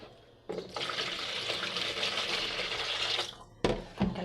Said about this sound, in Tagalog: Tapos tubig. Ito yung pangugas ng bigas.